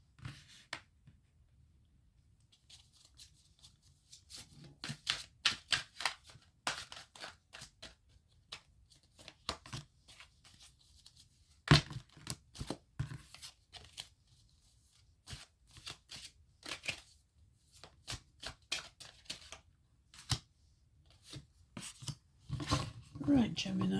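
Tarot cards being shuffled in a quiet room, soft riffling and sliding bursts repeating irregularly, close and fairly faint, with only light background noise.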